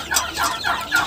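Turkey hens and chicks cluck and chirp in quick repeated bursts while pecking at grain and pellets, close by with no talking.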